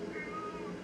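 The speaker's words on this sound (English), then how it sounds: "My cat is being dramatic." A cat lets out a single brief, faint meow over a low room hum.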